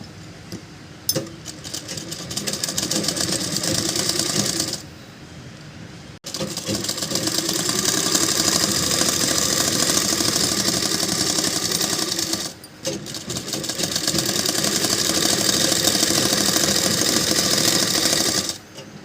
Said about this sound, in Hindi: तो हम उल्टी साइड से रख के इस पट्टी को सिल रहे हैं।